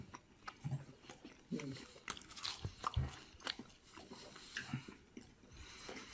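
Biting and chewing into a crispy pizza crust made with a new Gourman flour, giving close, sharp crunches at irregular intervals against quiet room noise.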